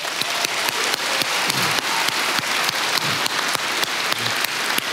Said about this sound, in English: So round of applause again.